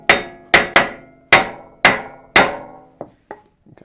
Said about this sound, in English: Grab our nice 4-pound hammer and just give it a few good whaps